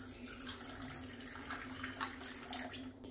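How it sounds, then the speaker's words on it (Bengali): Cold water is poured into a glass over ice and mango pulp for a mango drink, a continuous soft splashing trickle heard close and quiet throughout. "এখন দিয়ে দিচ্ছি ঠান্ডা জল।"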